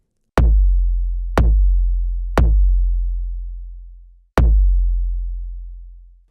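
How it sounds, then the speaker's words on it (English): A shortened, high-passed kick drum sample hits four times with uneven spacing, each a sharp punchy attack followed by a long decaying low tail, alone and loud. "the new kick that I made sounds like this"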